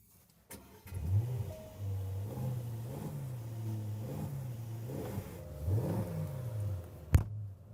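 A 680-horsepower V8 car pulls away and accelerates hard. The engine note climbs and drops through repeated gear changes, fairly close and prominent, with no talking.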